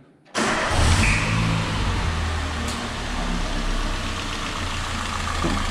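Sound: Peugeot 206 three-cylinder car engine starting and idling

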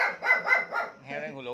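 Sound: wild boar barking

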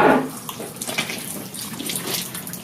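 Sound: water washing a cow's teat before milking

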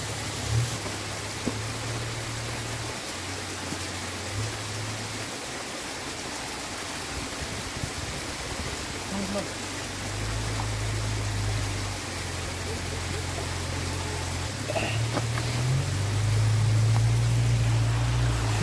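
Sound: mountain water stream flowing in Uttarakhand

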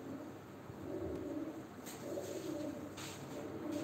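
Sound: pigeons cooing at a live pigeon auction

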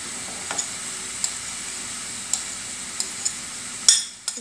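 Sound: garlic frying with skin-on chicken in a pan

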